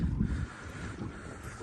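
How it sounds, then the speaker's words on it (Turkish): Gusty wind at sea off Antalya buffets the microphone with a low, rumbling roar, strongest at the start before easing into a steady rush. "Hava da baya bozdu zaten. Baya rüzgar var şu anda."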